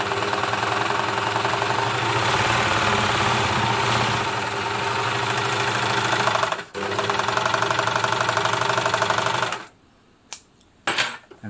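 A Baby Lock Jet-Air BLE1 serger overlocker stitches fabric with a loud, steady mechanical whirring and rapid knocking rhythm, pausing briefly, running again, then stopping with a few short bursts.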